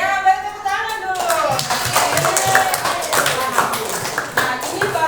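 Classroom or audience applause breaks out after a short pause, a dense patter of many hands clapping at steady volume, with a voice and light chatter mixed in.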